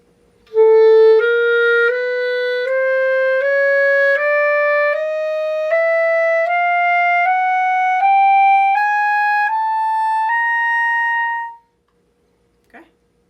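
Clarinet playing a slow ascending chromatic scale from low F toward high C, one sustained note after another rising steadily, solo and close, ending in silence with a small click.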